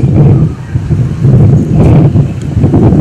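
Strong wind buffets the microphone in loud, gusty low rumbles throughout, with no clear voices.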